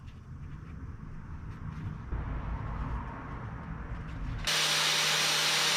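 A power tool trims a metal bracket from a 1961 Chevrolet Bel Air wagon brake job, a low grinding buzz that shifts midway, then jumps to a loud, bright, steady whine in the final second.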